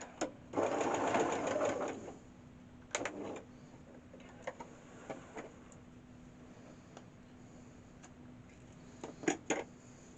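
A sewing machine stitches fabric for computer chair arm rests, with a loud burst of running near the start followed by short stop-start stitching runs and light ticking of the mechanism.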